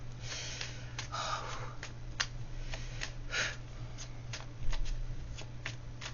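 Playing cards are shuffled close by in a series of crisp riffles and soft slaps, with light breathing and a low steady hum underneath.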